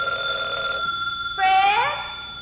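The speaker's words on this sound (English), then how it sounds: "Fred, telephone's ringing." A telephone bell rings in an old radio comedy scene, a steady tone that breaks off and then starts again in a brighter second burst, alone with no talk over it.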